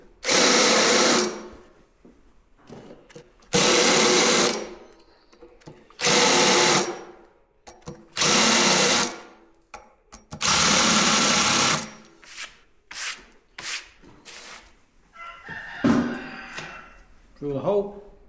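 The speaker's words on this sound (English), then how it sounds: "Drill the hole." Power drill boring a hole in an oak whisky barrel being made into a planter in Scotland, loud repeated whining bursts of a few seconds each with short pauses, followed by lighter clatter and handling.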